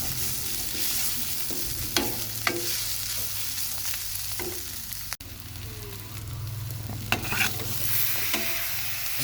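Curry powder, turmeric, garam masala, coriander powder, Kashmiri chilli and cinnamon frying in a pan for egg biryani, with a steady close sizzle and repeated scraping stirs, no talk.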